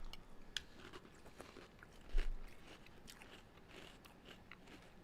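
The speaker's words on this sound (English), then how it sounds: "I like crunchy cereal, as you can hear." Crunchy cereal eaten dry without milk, with close, quiet crunching bites and one louder crunch over a steady background hiss.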